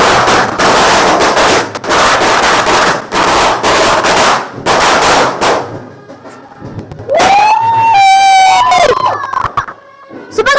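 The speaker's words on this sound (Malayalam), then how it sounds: "നല്ല കുറച്ച് പടക്കം പൊട്ടിച്ചു" Firecrackers burst at a festival in a rapid, loud crackling barrage of sharp pops that lasts several seconds, then pauses, followed by a whistling, siren-like wail rising and falling close by.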